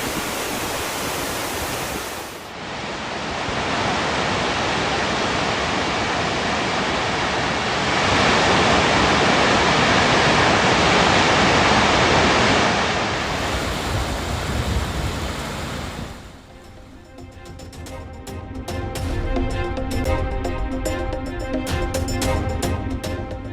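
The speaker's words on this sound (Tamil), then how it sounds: "கொடைக்கானலில் பெய்த தொடர் மழையினால் நீர்வீழ்ச்சிகளில் பெருக்கெடுத்து ஓடும் வெள்ளம்." Rain-swollen waterfalls in flood at Kodaikanal, including Silver Cascade, Vattakanal and Pambar falls, roar as a loud, steady broadband rush that swells midway and breaks off near the end into a rougher, choppier stretch of water noise.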